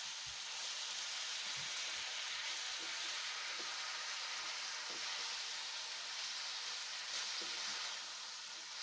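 Thin apple slices cooking with sugar in a pan, a steady bright hiss of sizzling with faint occasional clicks and stirring taps underneath, close and even throughout without talk.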